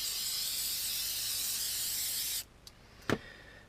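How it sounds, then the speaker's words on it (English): A continuous hiss of clear tacky aerosol spray onto beer-carton cardboard runs for over two seconds, then stops, followed by a couple of short spray bursts. "I spray it up like that."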